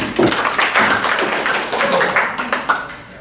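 An audience at a community theatre event applauds, a brief burst of close, loud clapping that swells and fades over about three seconds.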